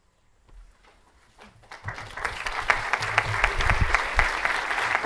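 Applause at a school convocation starts as a few scattered claps, then swells into sustained clapping from a large crowd, steady and full.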